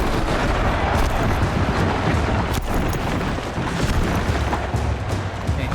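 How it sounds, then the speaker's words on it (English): A platform crashing down after its last supporting pillar is destroyed in Horizon Zero Dawn, heard as a sustained loud rumbling roar with a sharp crack partway through. "One more pillar and that platform will come down."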